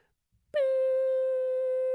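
A steady pure ringing tone stands in for tinnitus, a ringing in the ear. It switches on suddenly after near silence and holds loud and unchanging to the end.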